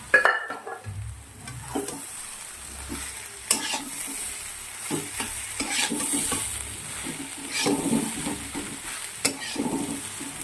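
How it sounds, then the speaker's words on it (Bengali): Boiled lentils (dal) being stirred and fried in a pan for tarka, a steady close sizzle with repeated scraping strokes of the spoon throughout, no speech. "ডালটা ভালো করে কষিয়ে নিয়ে আমি এবার রেখে দেবো জল"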